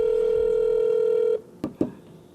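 A phone call being placed to a company in Elk Grove Village, Illinois: a steady dial tone holds, then cuts off and two short, sharp keypad tones follow, clear and close with no talking.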